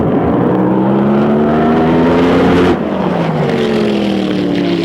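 A Top Fuel hydroplane racing boat on a drag run at a lake event in Chandler, Arizona, its engine screaming loud and near with rising pitch before abruptly backing off and winding down.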